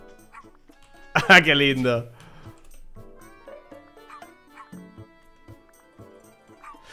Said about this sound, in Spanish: El perro de Hawk.